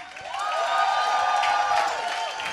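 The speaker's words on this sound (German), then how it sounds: "macht mal einen fetten Applaus für die Kulturcrew" A festival crowd at the opening of the Düsseldorf Kultursommer 2021 applauds and cheers loudly and steadily, with whoops rising over continuous clapping throughout.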